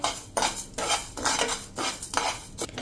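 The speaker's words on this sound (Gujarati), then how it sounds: "આ બધું જ આપણે સ્લો ટુ મીડિયમ ફ્લેમ ઉપર એને રોસ્ટ કરી લેવાનું છે." Metal spoon scraping and clinking against a pan in steady strokes, with a soft dry rustle of whole spices dry-roasting over slow to medium flame, close and fairly loud.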